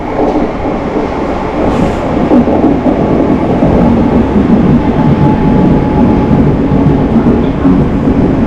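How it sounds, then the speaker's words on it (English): A loud, steady low rumble fills the whole stretch as a metro train rolls into a station close by in Athens, with no voices over it. "Here comes the graffiti train."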